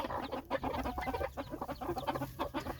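Broody hen clucking softly and steadily over day-old chicks, a close, continuous run of short low clucks with no talk.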